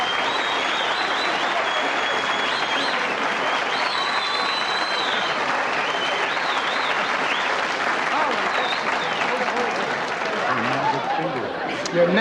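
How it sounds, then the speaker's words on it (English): A television studio audience applauds in a long, loud, sustained burst of dense clapping, with scattered chatter and voices mixed in toward the end. "I don't know what they're applauding for"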